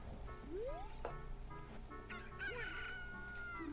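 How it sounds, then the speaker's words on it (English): A rooster crows in Zelda: Ocarina of Time, a rising game-sound crow over a busy mix of music and effects, with a second shorter chicken call near the end, loud and close. "Now we're gonna wake up Mario with the chicken."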